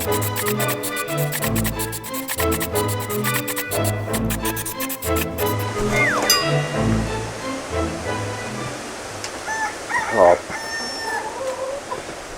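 Chickens cluck and call repeatedly close by, with a rooster-like cry, over a steady rushing background and some faint talk.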